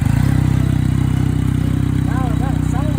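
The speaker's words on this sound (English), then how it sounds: "Now that sounds like a motorcycle." A motorcycle engine fitted with a new aftermarket muffler runs steadily close by, a loud, even idle with a deep throbbing pulse throughout, and faint voices or chirps partway through.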